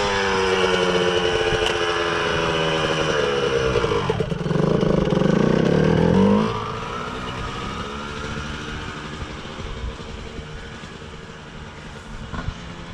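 A 1997 Honda CR125R two-stroke dirt bike engine revs hard and close, with a louder surge of throttle in the middle before it settles back to a steady idle-like drone.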